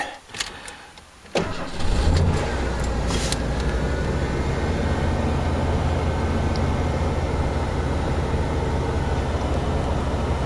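A 1994 Ford Econoline van, left sitting for over a week on a battery charger, cranks briefly and starts, then settles into a steady, close idle that runs on alone.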